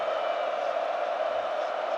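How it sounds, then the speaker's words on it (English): A large football crowd at the 2022 Chelsea v Liverpool FA Cup final gives off a steady, dense roar of voices that holds at an even level throughout, with no single voice standing out. "The crowd are getting ready."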